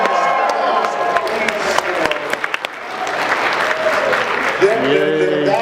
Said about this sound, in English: round of applause for Funimation